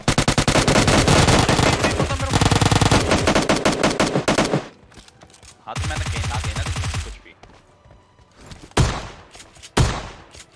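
Rapid, loud bursts of gunfire in the PUBG Lite video game, with a long sustained volley, a shorter second burst after a pause, and then a few isolated heavy shots near the end, close and sharp.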